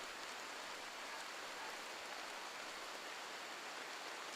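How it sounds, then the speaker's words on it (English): Steady rain in the video game RimWorld, a soft, even hiss of falling water that stays faint and constant from start to finish. "the rain is cleaning that out"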